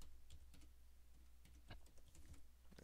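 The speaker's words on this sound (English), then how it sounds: "I'm just going to type this as probability." Someone types on a computer keyboard, producing soft, close keystroke clicks in an uneven rhythm, faint and quiet overall.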